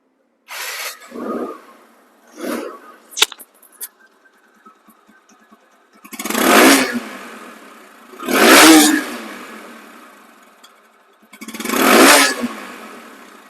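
A two-month-old TVS Apache RTR 160 motorcycle with about 2,200 km on it, its engine revved three times in strong, rising bursts after a few shorter blips and clicks, with no talk.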